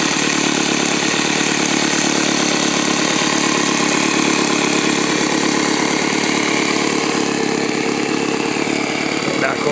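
An old biplane's rough, rumbling piston engine runs loudly and steadily, a constant throbbing drone without pause.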